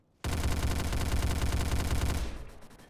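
Rapid automatic gunfire in the Roblox game Polybattle, a sustained dense burst of shots lasting over two seconds, loud and close, trailing off at the end.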